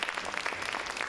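Audience clapping after a children's magic performance at a creativity competition, a brief, steady wash of applause at moderate volume.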